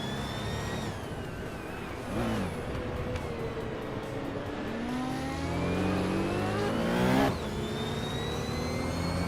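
1971 Porsche 917 LH race cars in a racing video game, engines revving steadily with rising and falling pitch as cars accelerate and pass, a louder swell near the end.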